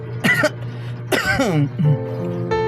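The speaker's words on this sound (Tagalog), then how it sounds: "kahit inuubo." Two harsh, close coughs about a second apart, followed by a short throaty sound and a brief voiced noise.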